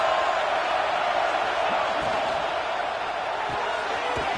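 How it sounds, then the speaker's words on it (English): Steady roar of a large stadium crowd at a college football game, loud and continuous with a few brief thumps, the dense wall of noise held for several seconds. "This crowd trying to make life miserable for this offense."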